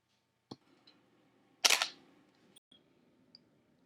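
A camera shutter fires once while photographing a river, making a crisp, close mechanical click-and-whir amid quiet surroundings, with a few faint small clicks around it.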